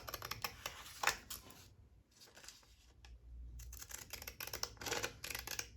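Scissors snip through paper ephemera during a craft session in quick, close bursts of crisp cutting, with a short pause midway before the snipping resumes.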